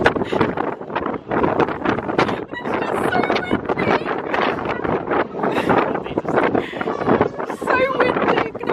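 Strong wind buffets the microphone on the Top of the Rock observation deck in New York, a steady loud roar with gusty surges throughout, and voices are heard talking over it.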